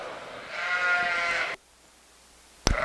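A sheep at a show gives one drawn-out, wavering bleat close by, followed by near silence and then a brief sharp knock.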